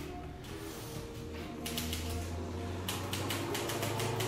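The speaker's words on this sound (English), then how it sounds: "We're even working on a typewriter." An old typewriter clacks in a 1914 wood-panelled railroad station, faint keystrokes at first and then quick bursts of sharp taps grouped in two clusters, close and alone without talk.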